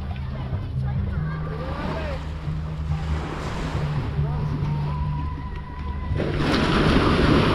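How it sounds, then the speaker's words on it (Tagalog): Steady rushing surf fills the whole stretch, with a low engine-like hum underneath and wind buffeting the microphone, swelling louder near the end. "Palakas ng alon."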